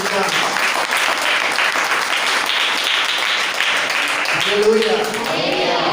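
A church congregation clapping, a dense, steady round of applause that fills the room throughout, with voices mixed in and swelling slightly near the end.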